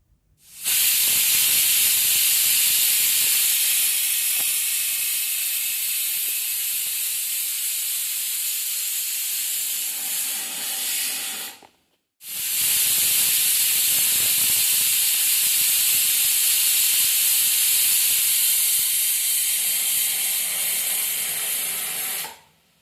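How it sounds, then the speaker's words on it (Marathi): A pressure cooker cooking rice vents steam through its whistle in two long, loud, steady hissing bursts of about eleven seconds each, split by a brief silent pause, with no talking. "कुकरच्या तीन शिट्ट्या झालेल्या आहेत"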